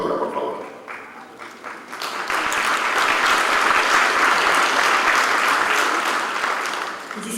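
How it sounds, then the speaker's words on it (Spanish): Audience applause at an international consumer-protection forum, building from scattered claps into sustained, loud clapping that fills the hall for several seconds. "Muchísimas gracias por el aplauso."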